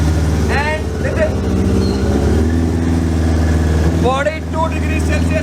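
Old motorcycle engine idling after six months unused, a loud steady throbbing close up with slight unevenness, while someone talks over it.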